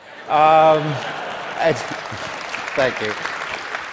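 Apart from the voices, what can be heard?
audience applause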